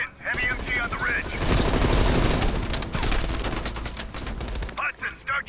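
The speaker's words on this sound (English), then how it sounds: "Heavy MG on the ridge." Heavy machine gun fire in the video game Black Ops Cold War, loud sustained bursts of rapid shots with explosive thuds, nearly filling the clip before cutting off into brief voice-like game sounds.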